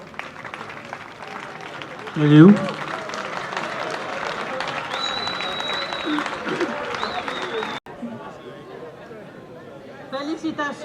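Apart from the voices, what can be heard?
audience applause at a graduation ceremony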